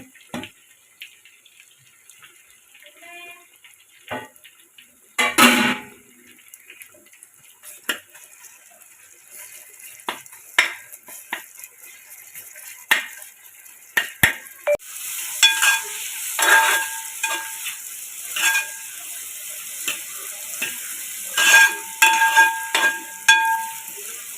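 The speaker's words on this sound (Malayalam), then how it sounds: "തക്കാളി എണ്ണയ്ക്ക് തന്നെ ഇട്ടൊന്ന് ശരിക്കൊന്ന് വാട്ടിയെടുത്ത്" Tomato sautés in oil for an onion curry, with intermittent scraping and stirring knocks, a sharp clatter early on, and a brighter sizzle that builds over the second half, fairly close with scattered clinks.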